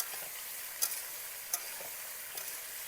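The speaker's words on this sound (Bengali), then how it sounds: "হলুদ দিয়ে একেবারে হাই আঁচে ঝিঙ্গেটাকে ভেজে নেব" Ridge gourd with turmeric frying in a pan over high heat: a faint, steady sizzle with a few sharp clicks from stirring, close by and without talk.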